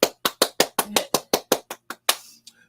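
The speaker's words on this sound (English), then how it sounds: "I'm going to applaud Elliott myself." A single person claps about a dozen times in a steady rhythm, each crisp, close clap standing alone in a quiet room, slowing slightly toward the end.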